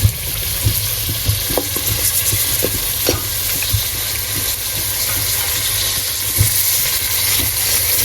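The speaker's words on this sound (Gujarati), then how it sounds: "તેલ મરચું ગરમ થઈ ગયું ને શાક આપણે નાખી દીધે સુધારેલું ઓલ મિક્સ" Chopped mixed vegetables hit hot oil with chilli in a pan and sizzle loudly and steadily, with scattered sharp crackles and stirring clatter throughout, no voices.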